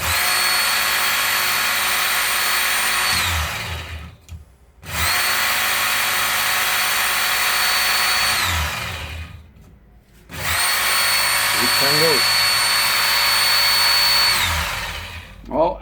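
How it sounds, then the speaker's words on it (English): Belt sander grinding the blade of an Osborne 86 knife, set near 25 degrees: three loud, steady high-pitched whining passes with brief pauses between them, alone without talk. "I took the blade of my Osborne 86 and I'm just going to sharpen it."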